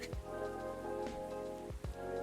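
Steady rain falling in the video game Coffee Talk 2, a dense continuous patter heard alone, with a few low thuds and a soft musical hum running underneath.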